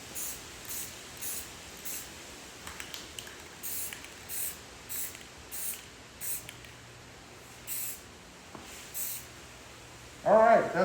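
Short, thin hissing bursts of spray primer are misted onto Toyota RAV4 sill guards, about a dozen separate puffs at irregular spacing, close and moderately quiet, with a brief sound of someone speaking near the end.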